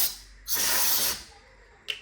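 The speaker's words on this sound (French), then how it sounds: "il vous faut juste une bombe d'air sec" Can of compressed air blasting dust out of a 1960 Remington Riviera typewriter, one loud hissing spray lasting under a second, close up, then a brief sharp click as the burst ends.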